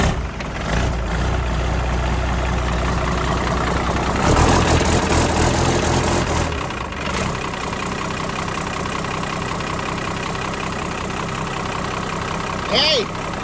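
A steady engine idles with a low rumble, growing briefly louder for a couple of seconds partway through, while a clamp on it leaks; someone talks over the running engine.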